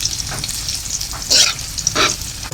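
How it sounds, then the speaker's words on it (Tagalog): Sardines fry in a pan with a steady close sizzle, broken by a few louder crackling bursts as the fish is stirred or moved; no one speaks. "Lutuin natin ang ating masarap na sardinas"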